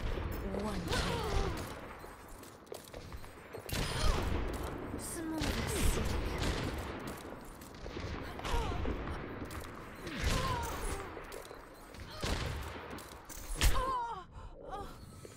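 Gunshots ring out in the video game Necropolis, heavy repeated blasts spaced a couple of seconds apart, mixed with groans, gasps and voices talking.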